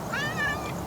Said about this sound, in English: And here comes somebody's cat that I give crunchies to every day coming to greet me.